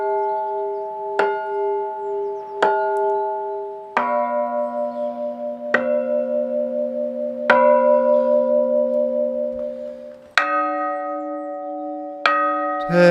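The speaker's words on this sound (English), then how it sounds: "these bells may have been cast almost 400 years ago, but they still have a beautiful tone." Church bells cast almost 400 years ago ring in a slow sequence of clear, resonant strikes, each with a long humming sustain, the pitch shifting between bells as they sound one after another.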